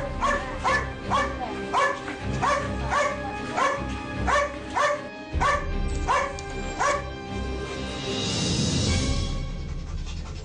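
A search dog barks in a quick rhythmic series of loud, close woofs at a house with a wooden door, followed by panting and rustling.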